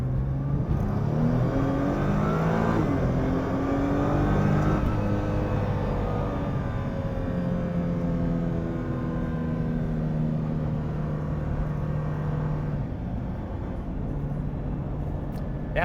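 A Nissan GT-R in R mode accelerating hard on a freeway, its engine note climbing through the gears in rising sweeps, with a dip and shift midway, loud and close from inside the car.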